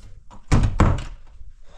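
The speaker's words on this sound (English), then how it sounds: "Shut this door." A door on a Ranger is pushed shut with two heavy, close thunks in quick succession, a louder first impact and then a second one, fading into light rustling afterward.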